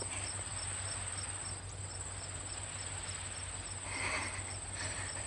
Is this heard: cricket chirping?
yes